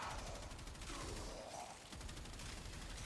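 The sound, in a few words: Reconifex weapon rapid firing in Warframe video game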